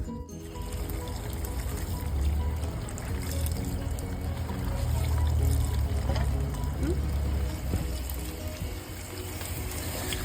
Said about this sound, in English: bring it over to the garden hose